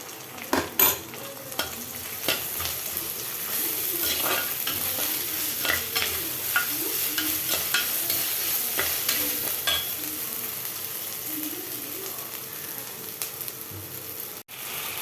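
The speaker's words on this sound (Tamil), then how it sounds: "வெங்காயம் நல்லா ஃப்ரை ஆகிடுச்சு இஞ்சி பூண்டு பேஸ்ட் ஆட்" Onions with ginger garlic paste sizzle in a pan for tomato biryani, a constant close frying hiss broken by frequent scraping and tapping of a spoon stirring against the metal, with no talking.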